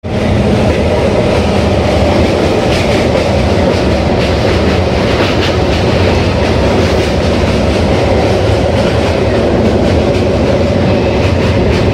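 A train rolls into Bardhaman station with a steady, loud rumble of wagons and rhythmic clickety-clack of wheels over rail joints, continuous throughout with no talk.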